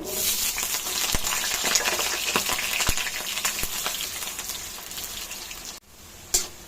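Raw potato pieces frying in hot mustard oil, a dense steady sizzle and crackle close up with occasional sharp pops, fading slightly near the end.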